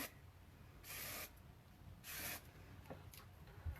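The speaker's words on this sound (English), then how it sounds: "Now go back in with some hairspray and give that a little bit just to stay in place" Hairspray is sprayed onto styled hair in a half-up, half-down style, with two distinct hissing bursts of about half a second each and a fainter short spritz near the end, heard close up in a quiet room.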